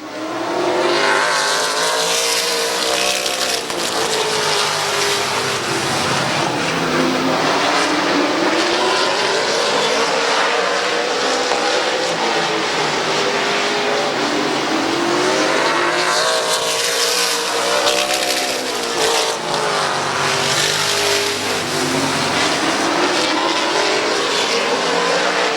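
Race cars roaring around the track at Midvale Speedway under a green flag, engines surging and fading as the pack sweeps past in waves, loud and continuous over the whole stretch.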